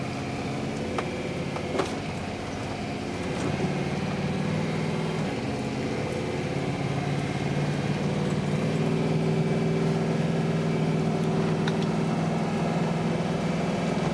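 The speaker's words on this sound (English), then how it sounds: "Right now we're riding with the cutout closed." A vehicle with a new exhaust drives down the road with the cutout closed, its engine giving a steady, muffled drone that swells slightly as it pulls along, with no talk over it.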